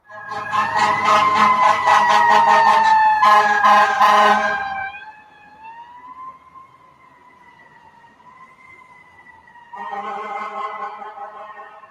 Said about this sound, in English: That's a fire engine, not an ambulance.